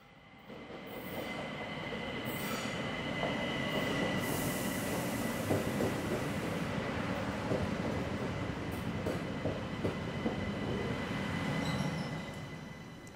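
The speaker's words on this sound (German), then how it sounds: "Nachdem taucht die S45 in einem kurzen Tunnel ein und erreicht die beiden sogenannten Zwillingsbahnhöfe Oberdöbling sowie gleich danach Grottenbachstraße." A Vienna S-Bahn S45 train rolls into a short tunnel, a steady rumbling roar with wheel squeal and faint clicking on the rails, swelling and then fading.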